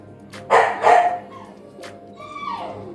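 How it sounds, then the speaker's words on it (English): A tied-up dog barks a few loud, close barks near the start, followed by fainter whimpering, yelping sounds. "I don't know why he's barking."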